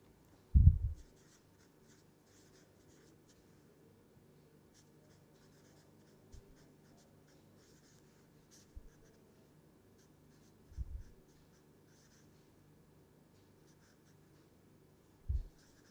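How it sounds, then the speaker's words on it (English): Chemical reactions being written during a chemistry lecture, faint scratchy strokes with a few louder thumps and taps spread across a quiet stretch. "Let me write some of these reactions stepwise."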